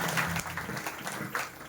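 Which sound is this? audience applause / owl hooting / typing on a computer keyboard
audience applause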